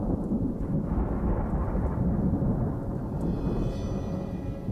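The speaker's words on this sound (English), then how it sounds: "As the summer turns, storms roll in." A summer thunderstorm over a swamp, with a deep, heavy roll of thunder rumbling steadily under constant rain, loud and continuous with no voices.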